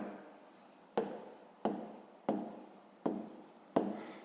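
A pen scratches on paper as a maths exercise is written out by hand, six quiet strokes in a steady rhythm about two thirds of a second apart, close and alone.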